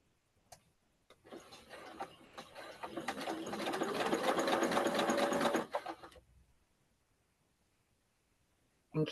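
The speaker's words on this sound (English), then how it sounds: "Kathy must be turning and sewing" A sewing machine stitching quilt fabric runs steadily for several seconds, a close, dense whirring hum with a rising pitch, then stops into near silence.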